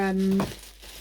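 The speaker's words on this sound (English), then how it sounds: "Sorry, I'm rustling." A paper letter from the Dutch post rustles and crinkles briefly at close range, following a short voiced tone at the start.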